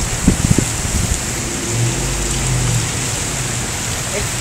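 Rain and hail pounding down during a tornado-warning storm in Riverside, a steady broad wash with a few sharp impacts early on, heavy and close throughout.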